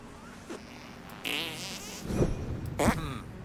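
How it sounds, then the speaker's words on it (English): A short comic fart sound blurts out in South Park: The Stick of Truth, followed by a couple of buzzy, wavering blasts and crackly effects, like a cartoonish game noise. "Did I just fart?"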